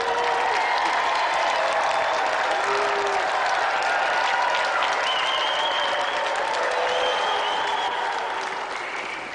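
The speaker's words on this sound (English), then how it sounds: "give a round of applause, everyone" A studio audience at a 1992 TV game show claps in steady, sustained applause with faint cheering, fading slightly toward the end.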